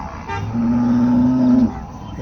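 A single steady moo from cattle at a livestock market near Erode rises clearly over a murmuring crowd and background noise, lasting about a second.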